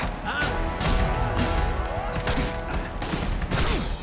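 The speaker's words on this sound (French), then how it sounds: "Et il y a des mecs qui tirent des coups de feu" Rapid gunfire bursts in The Amazing Spider-Man 2 on PS4, loud game shots and thuds layered with music and effects, with no talking over them.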